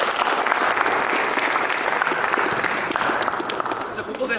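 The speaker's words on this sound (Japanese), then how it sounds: "感謝の拍手" A gymnasium full of people claps in thanks for students helping with ball collection at a volleyball team practice; the applause is dense, loud and sustained for the whole stretch without a break.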